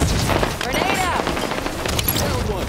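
A grenade blast in Halo 5 booms amid heavy gunfire and battle noise, a loud dense clash of shots and explosions throughout.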